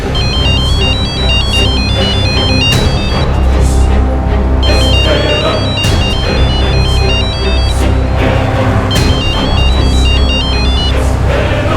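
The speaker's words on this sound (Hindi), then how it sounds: "फोन उठा यार, फोन उठा" A loud electronic ringtone repeats its melodic phrase over and over, with a steady low hum underneath.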